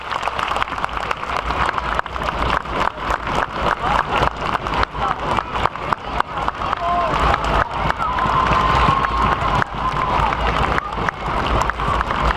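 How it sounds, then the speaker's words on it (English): A crowd at a girls' 5th grade basketball pep rally applauds and cheers as the team comes out, a dense, steady wash of clapping filling the room throughout, with a few brief whistle-like tones rising above it. "So let's give them a round of applause as they come out."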